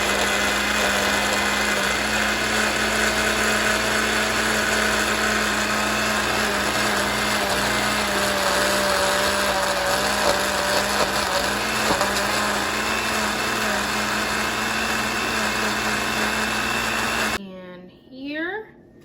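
An electric blender whirs steadily and loudly for about seventeen seconds, blending a smoothie of bananas, blueberries, raspberries and almond milk, then cuts off and spins down, followed by a short burst of speech.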